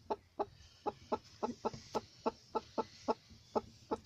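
Hens brooding a clutch of ten eggs cluck close by in a steady run of about a dozen short, evenly spaced clucks over a faint low background hum.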